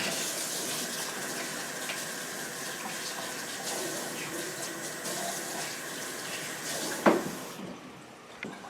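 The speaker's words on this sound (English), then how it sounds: "Before I do so, I'm going to rinse and dry my hand." Tap water runs steadily into a barber shop sink as hands are rinsed under it, a moderate continuous splash with a brief louder clatter near the end before the flow stops.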